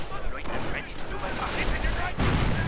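Rapid rifle and machine-gun fire cutting down a Veteran 3 Rifleman squad in a 1v1 real-time strategy battle, dense overlapping bursts and distant booms filling the whole stretch at steady loudness.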